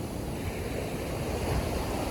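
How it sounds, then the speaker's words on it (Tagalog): A steady wash of sea surf rolls on the shore at San Juan, La Union, at 7 a.m., a soft continuous roar with slight swells in loudness. "nandito na tayo sa may dagat."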